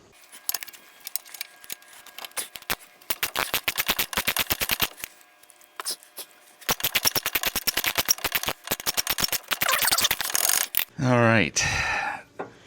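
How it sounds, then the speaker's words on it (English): Impact wrench fitted with a 17 mm deep-well socket spins out the bottom brake bolt on a 2016 Hyundai Santa Fe Sport, rattling in loud hammering bursts with brief pauses, ending in a rising whine as the bolt frees. "I used a 17 millimeter deep well impact socket to remove that bottom one out"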